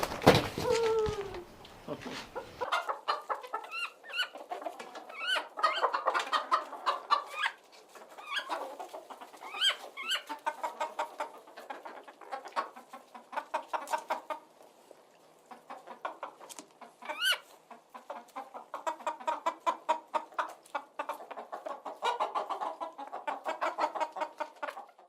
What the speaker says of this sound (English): Yeah, that's a hen.